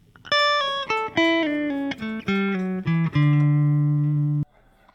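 A short melodic phrase, single plucked electric guitar notes, clean and sustained, descending then ending on a long held low note.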